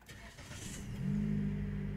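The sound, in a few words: car engine starting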